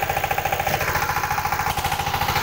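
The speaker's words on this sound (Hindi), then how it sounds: "देखिए कैसे चल रहा है ट्रैक्टर" A Rhino tractor tills a field, its engine running steadily close by with a fast, regular pulsing chug and a constant mechanical drone throughout.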